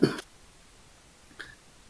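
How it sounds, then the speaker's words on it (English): A single sharp, close cough, followed after about a second by a fainter throat-clearing sound, with near silence in between. "I'm going to cough"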